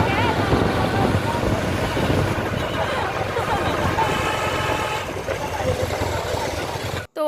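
Riding inside a moving auto rickshaw brings a continuous low engine rumble mixed with rushing wind buffeting the microphone, steady and close throughout.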